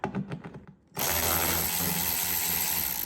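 Power driver removing a T27 Torx screw under a Porsche Cayman S 987 front bumper cover: a few clicks and knocks, then a sudden steady loud mechanical whir that runs to the end.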